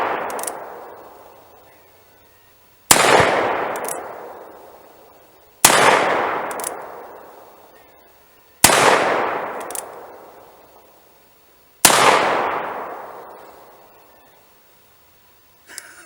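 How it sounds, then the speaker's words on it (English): A Colt Peacemaker .45 revolver fires five loud, evenly spaced shots about three seconds apart, each sharp crack followed by a long, fading echo at an outdoor target range. "So we're going to take 5 shots and see how we do."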